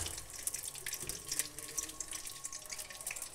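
Desi ghee poured into a hot wok for gram flour barfi, a soft, steady liquid trickle with faint sizzling, quiet and close with no talk.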